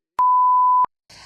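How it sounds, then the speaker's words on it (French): A single clean censor bleep, a steady pure tone lasting under a second, followed by a brief faint noise burst. "tu peux rajouter un bip"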